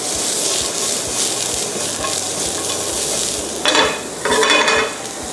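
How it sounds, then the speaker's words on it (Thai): Vegetables stir-fry over high heat for a sea bass and fennel dish, giving a loud, continuous sizzle close to the pan, with two brief bursts of harsher frying as the food is tossed. "นี่ใช้ไฟแรง ผัดเลย นะครับให้เขาสุกแต่ยังกรอบ"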